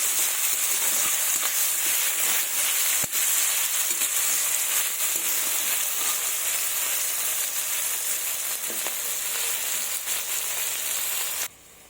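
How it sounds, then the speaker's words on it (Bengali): Soybean chunks seasoned with salt fry in hot oil, giving a steady, loud, dense sizzle with faint crackles throughout, alone until it cuts off at the very end. "এগুলোকে ভেজে নেব।"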